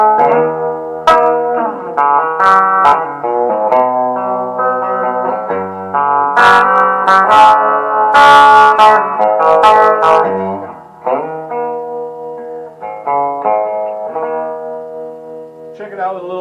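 A 1967 Gretsch anniversary electric guitar plays through a small, old amp with light distortion, sounding as a run of sustained, overdriven notes and chords, loud and close throughout.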